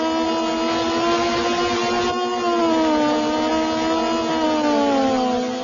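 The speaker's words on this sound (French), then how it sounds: "Le bruit du moteur est réaliste" A continuous, buzzy synthesized engine drone from a retro racing game on the Atari ST, its pitch sliding gently down and up as the car accelerates, loud and alone.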